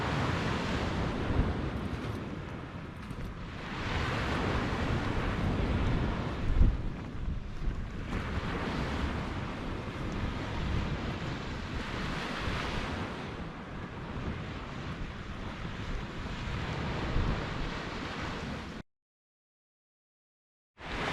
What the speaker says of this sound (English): you might hear the shelter wafting about